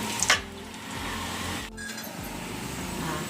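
Green chillies frying for shavige upma are stirred in a pan, a steady sizzle with a sharp metal clink of the spoon at the start and scraping strokes after.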